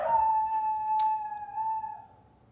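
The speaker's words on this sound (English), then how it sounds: "My howling dog." A dog howls nearby in one long, steady, wavering note that fades out after about two seconds, with a brief sharp click partway through and no talking.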